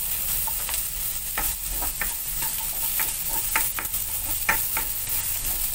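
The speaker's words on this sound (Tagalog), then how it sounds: "Ngayon guys, igisa na natin yung ating mga ricados." Ginger sizzles in hot oil, a steady close frying hiss broken by repeated spatula clicks and scrapes against the pan.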